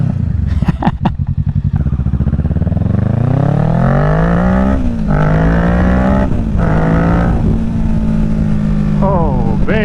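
A 2023 Kawasaki Ninja 650 fitted with a Yoshimura Alpha exhaust revs loud and close, its pitch sweeping up and down through several throttle blips before settling into a steady drone, with a rider's voice partly over it.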